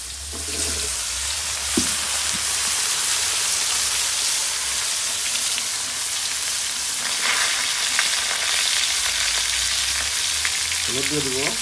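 Whole cumin seeds sizzling in hot oil in a pan, a steady loud hiss of frying that runs throughout with a few soft stirring clinks.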